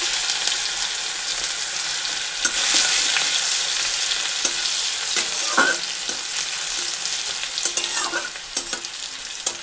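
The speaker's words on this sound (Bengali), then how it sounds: "তো রসুন দিয়ে কালো জিরা আর হচ্ছে শুকনো লঙ্কা ফোড়ন দিয়ে" Garlic frying in hot oil with a tempering of black cumin and dried chillies gives a steady, loud sizzle throughout, with scattered clinks and scrapes of stirring.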